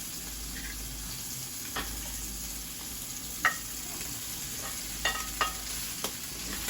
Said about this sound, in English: I'm going to now add back in the hash browns.